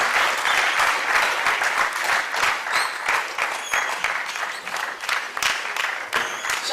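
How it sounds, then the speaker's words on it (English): Sustained applause from a lecture audience at a leadership certificate event, a dense, steady wash of many hands clapping with a faint crowd murmur, heard alone without speech. "Shall we sustain the applause for our lecturer?"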